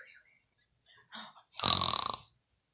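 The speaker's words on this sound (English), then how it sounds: "What kind of weird snore is that?" A short, odd snore, a rattling rasp with a burp-like quality, stands out from near silence. Soft breathy sounds come just before and after it, and there is no clear talk.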